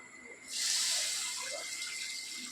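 Water pours steadily into about 500 g of sugar in a wok to make syrup, a bright, close rushing stream that starts abruptly and keeps flowing without talk.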